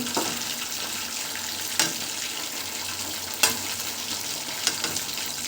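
Chicken 65 frying in a pan, a constant dense sizzle close up, broken by a few sharp scrapes as the pieces are stirred.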